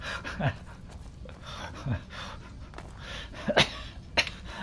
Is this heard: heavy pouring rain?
no